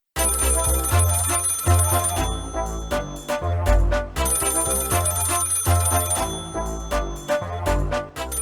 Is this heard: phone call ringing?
yes